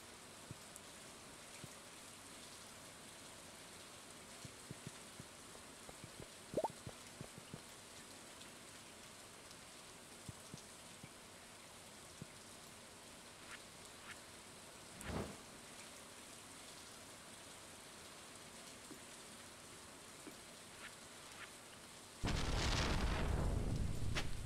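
Steady rainfall in the farming game Stardew Valley hisses evenly at a soft level, with a few faint drops and thuds. A sudden loud burst of noise closes it.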